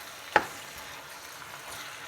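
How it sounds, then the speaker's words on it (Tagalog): Pork pieces frying in a pan for Filipino dinuguan, a soft steady sizzle with one brief louder clack near the start, close and fairly quiet, with no voices. "Medyo maprito lang yung baboy natin sa blade."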